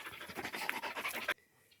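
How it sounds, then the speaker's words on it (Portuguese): Dogs panting close by on a rural smallholding, quick rhythmic breathy huffs running steadily for over a second before cutting off abruptly into near silence. "Só um pouquinho que eu tô conversando com meus cachorros"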